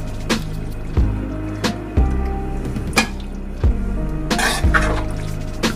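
Thick, creamy seafood mac and cheese with Gulf shrimp is spooned into a baking pan. Wet, squishy plops land in a steady rhythm of about one per second, each with a dull knock of the spoon against the pan, close and fairly loud.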